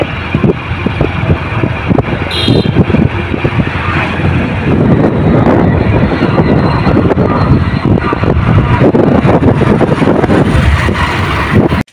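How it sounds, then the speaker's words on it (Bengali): Heavy wind buffets the microphone during an evening motorbike ride outdoors. The engine's rumble blends into a loud, constant roar of rushing air for the whole stretch. "এই যে আমার বর বাইক চালাচ্ছে"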